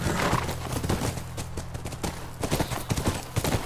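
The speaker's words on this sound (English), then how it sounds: "That's our horse." A horse's hooves clip-clop steadily on the ground in The Last of Us, a close, rhythmic series of hoof strikes over a low ambient background.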